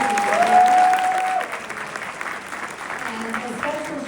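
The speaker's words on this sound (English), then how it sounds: "give them a big round of applause" A school awards-ceremony audience gives digital media students a big round of applause, with sustained dense clapping that stays loud at first, then eases slightly but carries on steadily to the end, with some voices under it.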